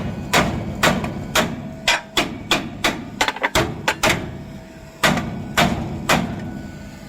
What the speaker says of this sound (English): I figured I could hammer on it because we're not using it again